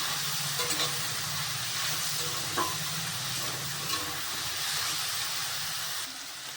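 Vegetables for flattened-rice pulao fry with turmeric and salt, making a continuous soft hiss and sizzle with faint occasional clinks, then a slight drop in level near the end.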